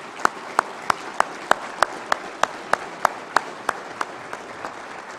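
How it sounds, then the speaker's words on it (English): A dinner audience at an Eagle recognition dinner applauds the 2023 chairman with steady, evenly spaced claps heard close and fairly loud, sharp individual hits standing out over a soft wash of clapping. "Please join me in a round of applause"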